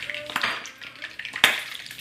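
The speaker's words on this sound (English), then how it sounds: "you can see how it starts to sizzle" Hot frying oil in a pan crackles and sizzles after a drop of water hits it, with a couple of sharp spitting pops and faint clinks of cookware nearby.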